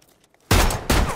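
Pistol gunfire in a Red Dead Redemption duel, two loud sharp shots in quick succession after a near-silent pause, each with a booming tail.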